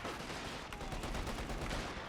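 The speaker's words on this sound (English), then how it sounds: "MG suppressing the Panzerfusiliers" A machine gun in a Company of Heroes battle fires suppressing bursts, a dense rapid rattle of shots blended with surrounding battle noise, moderately distant.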